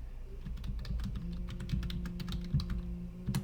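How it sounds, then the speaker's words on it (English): Typing an email address and password on a computer keyboard: a quick, steady run of close keystroke clicks over a low background hum. "Type in your email address and your password"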